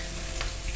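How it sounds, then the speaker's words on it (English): Steady, dense sizzling of bacon frying in a hot pan, a continuous crackling hiss with a couple of brief louder spatters. "I love the sizzle."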